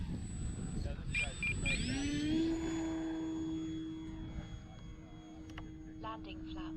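An X-Fly Tasman RC airplane flies overhead, its motor a steady tone that rises in pitch as the plane turns and then holds, with a faint hum beneath and someone talking over it.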